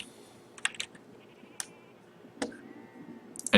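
Sheep in a strategy video game give several short, sharp bleats spaced apart, mixed with clicking keyboard and mouse taps over a quiet background, with no voices.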